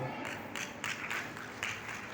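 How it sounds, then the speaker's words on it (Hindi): A crowd claps at an outdoor Indian school or community gathering on water and nature conservation, producing a dense, steady patter of hands at moderate distance with no voices over it. "जोरदार तालियों के साथ बहुत बहुत धन्यवाद सर।"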